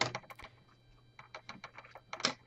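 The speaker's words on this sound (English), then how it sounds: "you're going to be hearing clicking noises as it's being removed." Sharp plastic clicks and snaps as the screen bezel of an HP Pavilion 15T-AK000 laptop is pried off with a credit card, coming in quick irregular bursts, close and fairly quiet against near silence.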